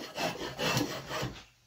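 A drawknife rasps across the wood of an axe handle in three rhythmic shaving strokes, close and fairly loud, with no voices.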